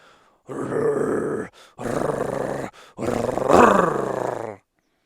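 Deep, rough lion growls in three long bursts with brief pauses between, close and loud, the last one swelling into a rumbling roar.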